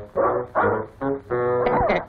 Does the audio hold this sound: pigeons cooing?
no